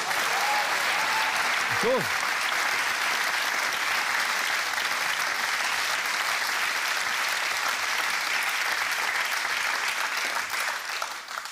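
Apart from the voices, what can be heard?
studio audience applause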